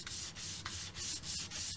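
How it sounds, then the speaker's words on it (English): Repeated rubbing strokes of a sanding block along a wood edge trimmed with edging tape, about five even back-and-forth passes, close and steady with no talking. "when you're sanding, you don't want to go over and break your corners"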